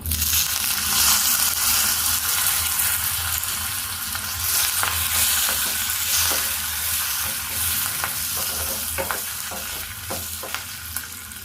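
Curry leaves and spices crackle in hot oil for a sambar tempering, producing a loud, continuous close sizzle with occasional stirring scrapes and pops throughout.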